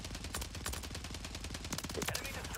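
Rapid automatic fire from an STG 44 rifle in Warzone 3 crackles in dense, continuous bursts of close, punchy shots with no pause, and no talk over it.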